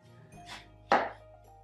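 Kitchen knife slicing straight down through an onion on a cutting board, two crisp cuts about a third of a second apart, the second sharper and louder, close and isolated with no talk.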